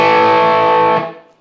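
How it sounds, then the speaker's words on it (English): Distorted electric guitar playing the start of a turnaround lick, one loud sustained ringing phrase close up that fades out, followed by a brief new attack. "the next lick you'll hear after the first 6 is the start of our turnaround, and it'll sound like this"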